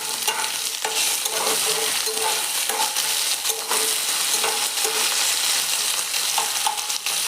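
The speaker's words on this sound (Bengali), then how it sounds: "তেল গরম হয়ে গেছে। আমি এখন ডাঁটাগুলো দিয়ে দেব।" Dheki saak stalks frying in hot oil with a little salt, a loud, dense crackling sizzle with repeated stirring scrapes throughout, close up and with no talking.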